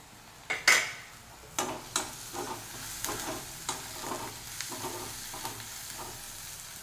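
Onions sauté in a pan for a mutton liver dish, with faint sizzling and a few soft spoon scrapes and taps. Fairly quiet, with no talking.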